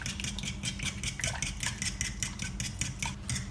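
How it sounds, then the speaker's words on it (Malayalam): A fork stirs milk white sauce for pasta in a pan, making quick, steady rhythmic clinks and scrapes against the metal, close and fairly quiet, with no talking. "കാണിച്ച പോലെ ഞാൻ ഫോർക്ക് വെച്ച് ഇളക്കുവാണ്"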